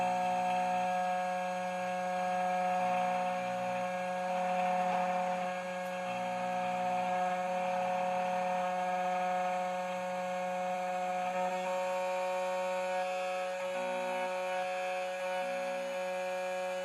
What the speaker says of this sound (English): Take the proper key blank and install the key on the clamp. Click continue and cut the key.